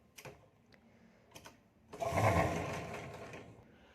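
A sewing machine stitches the finishing seam on a blouse lining, a steady whirring run of about two seconds that fades out after a few faint clicks and taps of handling the fabric.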